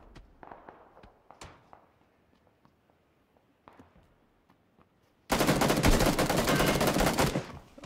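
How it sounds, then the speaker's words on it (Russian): Gunfire from the video game Apex Legends in a competitive esports match: scattered single shots and short bursts at first, then a loud, sustained automatic volley close by lasting a couple of seconds. "и в спину погибает от выстрела Тимми Зет"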